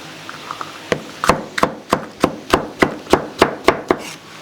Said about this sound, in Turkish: Bunları da ince ince doğrayacağız.